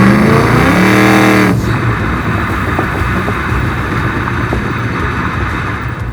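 A supercharged 750 WHP Chevy Blazer engine revs up with a rising harmonic whine, then drops off abruptly into a lower, steady throbbing drone as the vehicle cruises.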